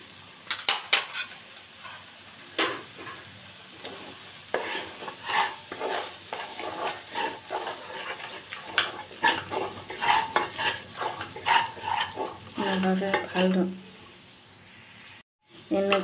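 Spoon stirring and scraping green pea kebab mixture in a pan, with frequent clattering and scraping strokes over a faint frying sizzle and brief talk.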